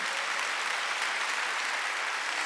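A church congregation at a Wednesday worship service claps together, a dense, steady wash of applause that holds evenly throughout without any voices.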